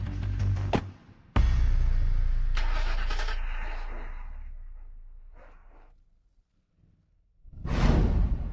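A car engine starts with a sudden loud burst, then settles into a steadily fading run before quiet, followed by a closing whoosh as a vehicle passes, in a Filipino drama scene.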